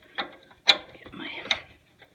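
A wrench tightens a bolt on an oil furnace, giving three or four close metallic ratcheting clicks spaced unevenly within a couple of seconds.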